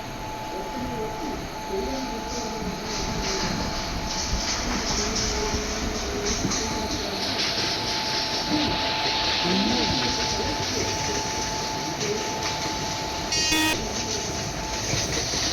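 Onboard a Tamil Nadu superfast express running after leaving Solapur: a continuous rumble of wheels and rail noise with steady carriage clatter and a brief high-pitched tone near the end.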